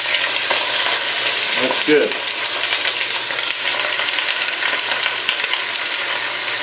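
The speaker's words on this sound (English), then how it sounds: "You hear that sizzle, right?" Steady, loud sizzling and crackling of chicken browning in olive oil close up, continuous throughout, with a brief spoken remark partway through.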